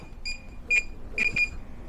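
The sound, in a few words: drone remote controller pairing beeps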